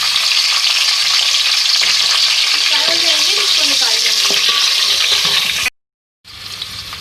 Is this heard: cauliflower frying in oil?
yes